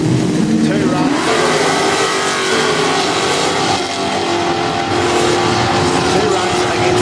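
A Mustang drag car roars loudly and steadily down a quick-street drag strip, its engine noise holding strong for several seconds with crowd and commentator chatter mixed in.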